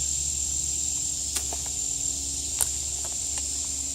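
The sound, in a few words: cicadas singing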